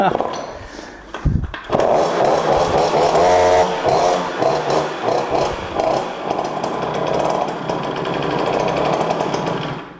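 A small dirt bike engine, found at a dump, revs and sputters roughly and loudly throughout, failing to hold an unsteady idle, with people talking over it.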